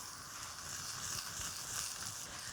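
Onions sizzle steadily in a hot pan, a soft continuous hiss with faint crackles, heard fairly quietly with no talking.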